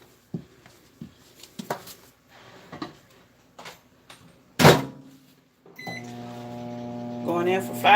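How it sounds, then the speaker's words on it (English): Microwave oven switched on for a few seconds to warm a chocolate mixture for marble apples, giving a steady hum with a tonal drone after kitchen clatter and a sharp clack of the door. "I'm going to put this back in the microwave for a few seconds"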